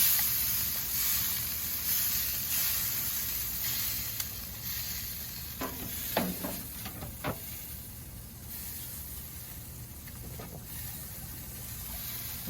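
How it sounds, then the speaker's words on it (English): BBQ ribs cooking at 300 degrees sizzle softly after a spritz of Dr. Pepper, giving a faint steady hiss with a few brief crackles and pops midway, no talking. "I like to spritz them, like I said, with Dr. Pepper, kind of re-wetting the surface."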